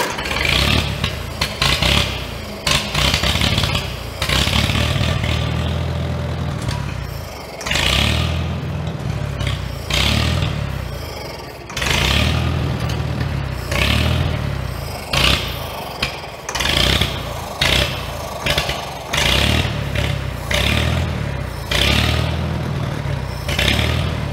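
An old Farmall tractor that sat unused for many years sputters and struggles to run, its engine catching in rough bursts, dying away and firing again with clattering, uneven revving, loud and close throughout.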